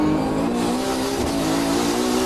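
Mazda RX-7 race cars running nose to tail at Oulton Park during a classic saloon race, engines roaring loudly and steadily as they power out of a corner, with a brief tyre scrub partway through.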